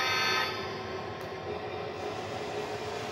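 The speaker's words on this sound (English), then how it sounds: "I'm gonna run the train across here for you guys." An O27 model train runs on a figure-eight layout where O27 track joins FasTrack, with a close, steady whirring rumble and rattle of wheels that carries evenly for about three seconds with no talking.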